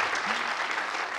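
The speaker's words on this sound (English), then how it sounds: "that was a reason for a round of applause for Jean-Paul" A brief, moderate round of applause from an audience at a fashion talk at the de Young Museum in San Francisco, a soft, even patter of many hands with no voices over it.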